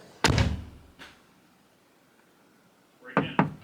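A door is locked and shut: a solid slam thump, a faint click a moment later, then two close sharp latch clunks near the end, with quiet pauses between.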